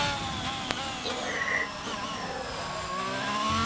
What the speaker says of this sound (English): Beautiful, beautiful sound of a Ferrari engine.